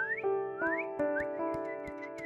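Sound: people whistling in the video game One Hour One Life

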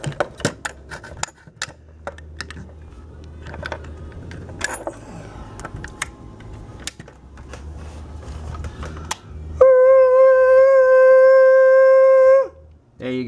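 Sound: sideband transmission noise from KN Q7A QRP ham radio

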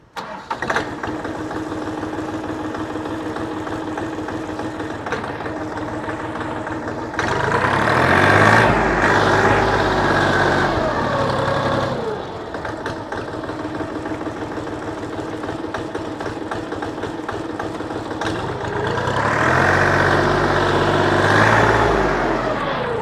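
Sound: used XT 244 four-wheel-drive tractor engine starting and running

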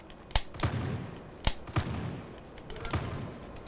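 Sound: gunshots in a video game

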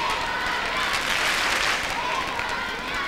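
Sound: Spanish crowd applauding gymnastics hoop routine

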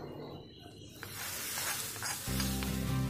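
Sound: curry leaves and red chillies sizzling in hot oil for tempering

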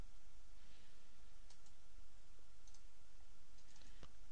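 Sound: computer mouse click in Altium Designer

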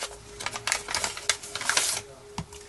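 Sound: scissors cutting open an envelope

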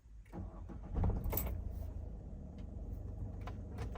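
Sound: Peugeot 5008 car being started

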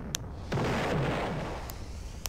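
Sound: bomb explosion in Roblox Brick Battle video game

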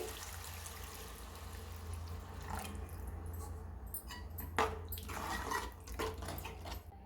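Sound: water being added to curry

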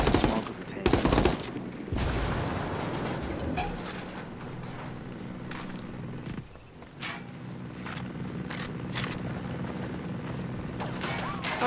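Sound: gunfire in Ghost Recon Wildlands video game

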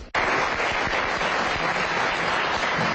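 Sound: applause at a Rotary Club honors ceremony

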